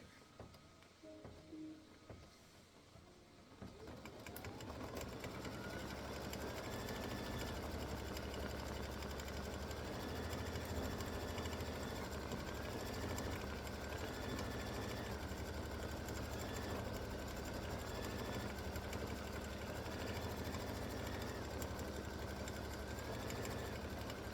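An embroidery machine stitches a tack-down step of an appliqué Valentine bear design, starting after a few quiet seconds and then running as a loud, steady mechanical chatter with a faint repeating whine throughout.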